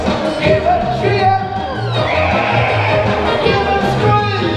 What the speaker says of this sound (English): Give a cheer.